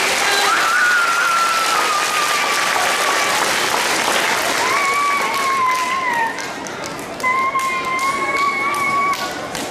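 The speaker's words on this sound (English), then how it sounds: "Let's give her another big round of applause." A children's show audience gives a girl a big round of applause. The clapping is dense and loud, with cheering and children's shouts, and bright tonal whistles or squeals sound over the crowd.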